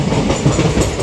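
A passenger train runs over the rails on a 232-kilometre journey toward Dhanbad, Jharkhand, a steady close rumble filling the whole stretch without any voices.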